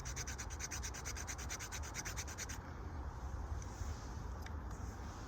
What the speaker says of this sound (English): Scrape it along the piece of dry wood to get some fine shavings.